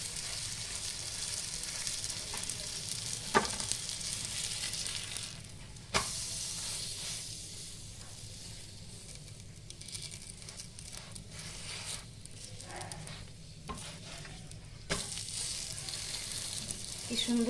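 A kulcha sizzles in butter on a hot pan, a steady close frying hiss that runs throughout with a few sharp clicks and brief quieter dips.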